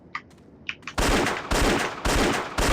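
Gunfire in the video game The Infernal Machine: a few faint clicks, then four loud, evenly spaced shots booming up close.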